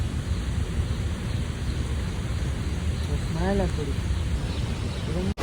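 Light rain falls as a steady, even hiss throughout at Gira waterfall near Saputara, and a voice speaks briefly partway through.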